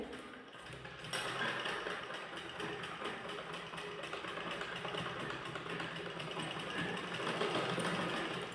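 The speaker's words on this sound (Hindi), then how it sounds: "घुमा करके देखिए 2-3 बार हम सिलाई लगाएंगे।" A sewing machine runs steadily, stitching elastic onto a pair of ladies' trousers, with a continuous mechanical whir and rapid needle clatter that is close and fairly quiet, and no talking.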